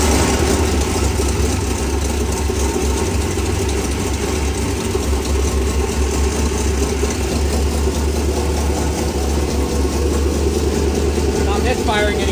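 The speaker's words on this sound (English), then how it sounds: "First startup on the new injectors." Turbocharged junkyard truck engine idling steadily on fresh injectors, a loud continuous low rumble with no misfire.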